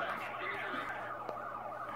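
Wailing police sirens from cop cars in the Need for Speed Most Wanted video game, several overlapping sirens sweeping up and down continuously at moderate loudness with engine and street noise beneath.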